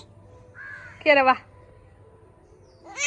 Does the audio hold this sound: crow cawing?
yes